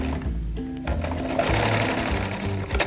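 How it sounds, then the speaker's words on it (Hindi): A sewing machine stitching elastic into a ladies' trouser runs in quick mechanical bursts, stopping briefly near the start and then chattering on steadily, close and fairly loud. "खोल के सिलाई लगाएं।"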